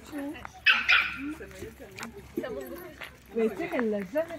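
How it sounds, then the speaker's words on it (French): Several dogs, among at least seventeen on a group dog walk, yip and bark in short bursts amid a busy mix of people talking nearby. "Bon, il y avait au moins 17 chiens."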